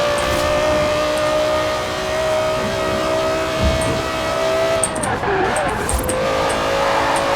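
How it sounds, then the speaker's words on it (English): An early-2000s car races in Forza Horizon 4, its engine holding a steady high-revving drone that sweeps slightly in pitch before a brief shift and scuffle, with a voice talking over it. "Great engine sound."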